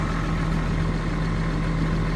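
A tractor engine idles in a steady, loud, continuous rumble with a constant low hum and no change in pitch or rhythm.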